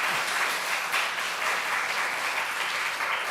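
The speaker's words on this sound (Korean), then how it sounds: "이제 목사님 다시 한 번 더 박수로서 맞이합니다." A church congregation applauds to welcome a pastor, a steady dense wash of clapping filling the room without pause.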